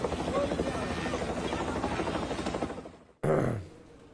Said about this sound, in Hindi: यह हेलीकॉप्टर लेकर उड़ गया है